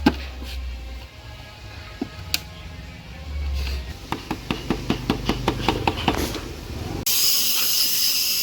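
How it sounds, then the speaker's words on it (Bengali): Fish curry in a pot over an outdoor wood fire, with a steady hiss and a run of regular ticking crackles, ending in a louder broadband rush. "একেবারে মাছের ঝোল ফুটছে কাঠের জালে, একবারে টকবক করে ফুটছে"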